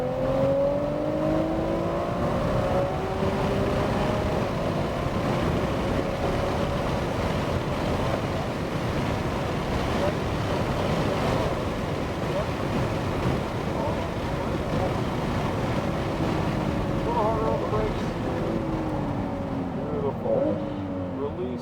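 A car accelerating hard around the Circuit of the Americas race track in Austin, a steady loud engine drone with rising and falling pitch and heavy wind rush, continuous throughout.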